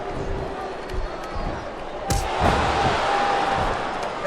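Arena crowd cheering in the WWE SmackDown vs Raw 2007 video game, a steady roaring wash that swells slightly partway through, with a sharp slam and commentary talk over it.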